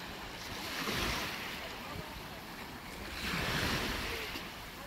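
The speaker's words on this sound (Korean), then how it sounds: "바다를 만끽합니다" Sea waves washing in on Jeongdongjin beach, a steady broadband surf roar that swells twice in slow surges, with light wind noise on the microphone and no voices.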